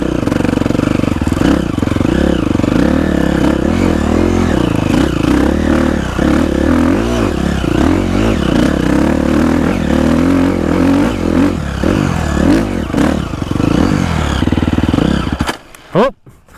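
A dirt bike engine revs hard and continuously on a hill climb at an old mine site, a loud, close snarl with rough, heavily geared throttle changes and some clatter that cuts off abruptly near the end.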